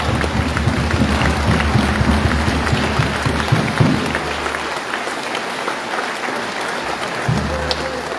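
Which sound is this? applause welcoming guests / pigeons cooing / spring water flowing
applause welcoming guests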